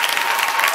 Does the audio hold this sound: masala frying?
no